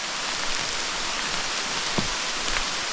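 Steady, dense rain hisses evenly throughout, with occasional louder drips and patters close by.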